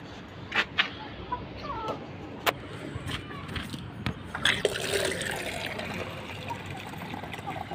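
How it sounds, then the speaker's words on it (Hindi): Hens cluck and a rooster calls nearby in short scattered bursts, over soft background rustling and splashing of water. "ये हमारा मुर्गा मुर्गी, इनको भी दाना पानी कर देते हैं।"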